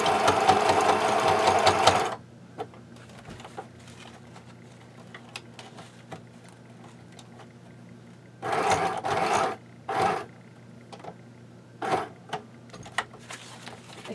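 Sewing machine stitches a travel case belly band in short bursts: one long run at the start, then several brief stitching spurts separated by quiet pauses with faint handling sounds.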